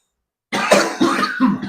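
Three bursts of coughing and throat clearing close to a podcast microphone, starting abruptly after a moment of silence and following one another in quick, harsh succession.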